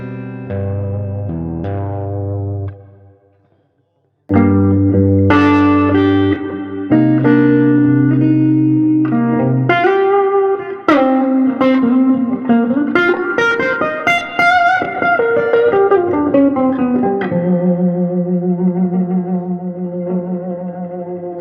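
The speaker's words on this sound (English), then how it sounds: "this reverb goes too far when you start to turn up" A guitar plays through a Fender '68 Custom Vibro Champ amp with reverb: ringing chords, a brief silent gap, then melodic lines with bent notes that swell and fade into washy reverb. The sound is loud, close and has no voices.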